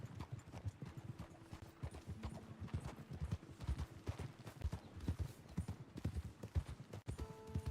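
Horse hooves clip-clop in a steady, quick rhythm in the Western video game Red Dead Redemption 2, close and continuous, with faint tonal game sounds near the end.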